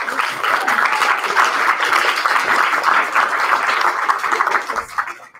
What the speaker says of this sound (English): If I could just get one more round of applause for all of our great presenters